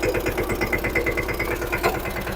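A tractor engine idling at a cement works, a steady rhythmic chugging throb with a mechanical rattle, continuous and moderately close, no talking.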